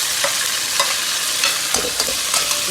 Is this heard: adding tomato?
yes